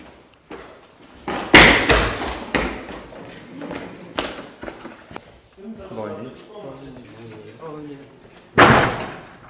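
A door slams and thumps several times, loud sharp bangs spaced irregularly, with people talking and laughing between the impacts.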